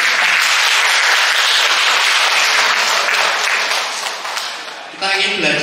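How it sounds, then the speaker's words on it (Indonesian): Loud, dense applause from a church audience fills the room, sustained and even, then fades a little near the end before a brief swell of mixed sound returns. "Tepuk tangan untuk kita semua."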